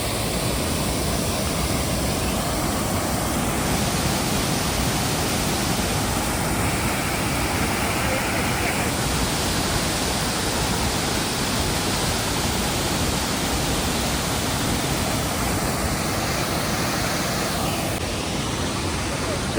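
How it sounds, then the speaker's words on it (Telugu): River water rushes past at Dawki in Meghalaya near the India–Bangladesh border, a loud, continuous broadband roar with no pauses. "వాటర్ ఫ్లో బాగుంది."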